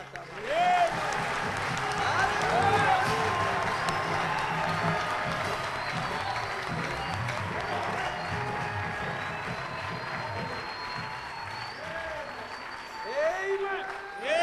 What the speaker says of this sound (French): Faites d'abord les acclamations.